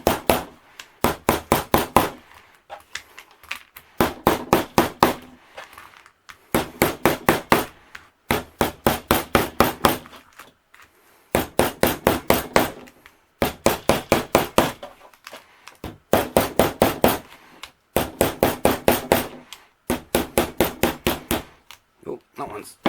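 Rapid bursts of hammering as rivets are set into the ends of a leather coin bag, each run of sharp metallic strikes separated by short pauses, close and loud throughout.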